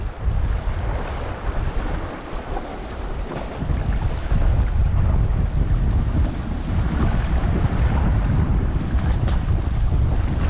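Wind roars across a boat while bass fishing with topwater lures off the UK coast, a loud, continuous gusting rush with buffeting on the microphone and a faint wash of waves beneath.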